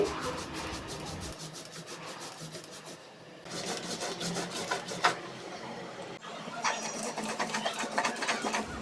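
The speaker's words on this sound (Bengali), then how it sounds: "পোস্ত দানা মিক্সিতে বেশি হলে কিন্তু ভালোই বাটা হয় তবে অল্প পরিমাণে হলে সেটা অনেকটা গোটা গোটা থেকে যায় সেজন্যই এটাকে আমি শিলনোড়াতে বেটে নিচ্ছি" Poppy seeds ground by hand on a traditional Bengali shil-nora grinding stone, a continuous rhythmic stone-on-stone rubbing and scraping that runs throughout at close range with brief pauses, no voices.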